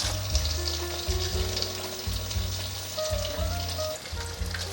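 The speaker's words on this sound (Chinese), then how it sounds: "再继续让它煎。" A vegan potato and green pepper patty fries in a pan with a dense, steady sizzle heard close up, and soft tonal music plays underneath.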